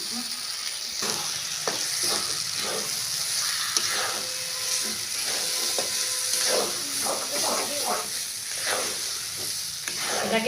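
Ground green pea paste for kochuri filling sizzles in hot oil in a pan, a steady close frying hiss broken by repeated scraping stirs.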